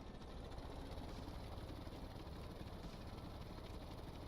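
An aircraft engine in a video game has just started and runs at a steady idle, a constant rumbling drone with no change in pitch or loudness.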